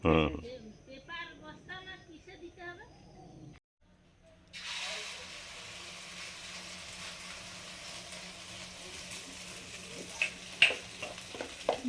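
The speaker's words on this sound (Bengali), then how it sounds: "ডিম আলু ভাজা করছি" Eggs and potatoes fry in a pan with a soft, steady sizzle that continues for several seconds after a brief pause, joined by a few small clinks near the end. Someone speaks quietly at the start.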